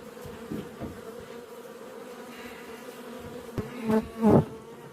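Honeybees buzz steadily in a dense hum, with a couple of louder bees passing close near the end.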